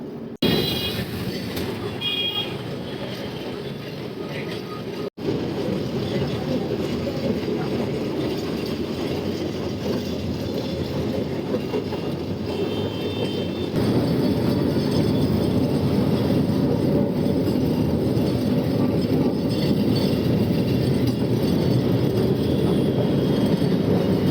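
A Kolkata heritage tram rumbles steadily along rails, a low continuous roar with faint metallic clatter, growing slightly louder partway through; no voices.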